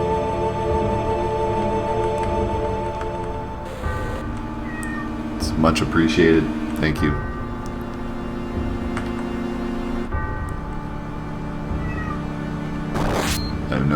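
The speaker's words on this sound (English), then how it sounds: "I have no idea what he's meowing about." A cat named Seymour meows repeatedly and insistently indoors, drawn-out tonal cries up close, while a person speaks briefly over part of it and video game sounds play.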